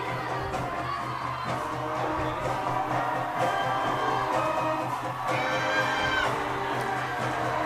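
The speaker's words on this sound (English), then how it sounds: "the home crowd getting their money's worth tonight" A home crowd at a high school football game cheers and shouts steadily from a distance, with whoops and youthful voices rising and falling in a continuous roar.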